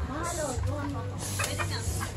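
A chicken clucks several times in quick, uneven bursts, close by, over a low background hum, with a faint voice mixed in.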